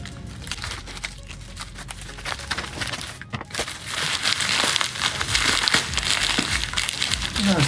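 A cardboard shipping box being cut open by hand, with steady crinkling and tearing scrapes that grow louder and denser partway through, recorded up close with no talking.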